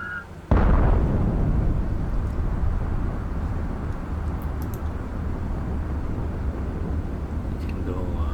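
A sudden booming bomb blast in the World War II strategy game Panzer Corps 2, hitting hard then rolling into a long, loud rumbling decay that fills the rest of the moment.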